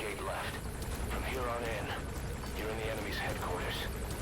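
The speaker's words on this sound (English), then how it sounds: "So there's the helicopter." A steady helicopter drone hums throughout in Metal Gear Solid V: The Phantom Pain while someone talks over it, the rotor noise constant and moderately loud beneath his voice.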